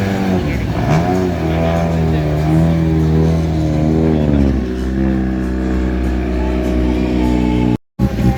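A rally car at the start of the Rallye de Saint Émilion revs hard and pulls away, its engine loud and close with rising, shifting tones, while an announcer talks over it.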